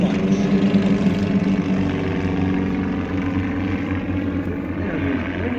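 Team of small aerobatic aircraft at an airshow at East Kirkby, flying round in formation, their propeller engines giving a loud, steady droning roar that continues throughout with no talk.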